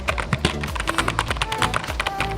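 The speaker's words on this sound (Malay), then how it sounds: "korang nak dengar bunyi ni yang paling satisfied lah kalau pakai keyboard gaming ni" Fast, crisp keystrokes clatter close up on a LANGTU K200 gaming keyboard, a steady run of taps with no voices.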